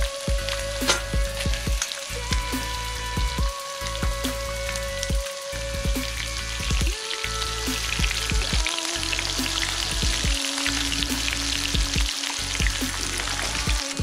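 Burbot frying on a stove crackles in a loud, dense, continuous sizzle with popping spatter throughout, close up and unbroken, with no voices.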